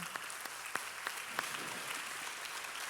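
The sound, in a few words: congregation applause thanking people over sixty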